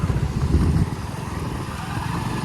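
A petrol motorcycle engine idling or running steadily on a rain-wet road, a close, loud, continuous low chugging rumble that eases slightly after the first second, with no talk.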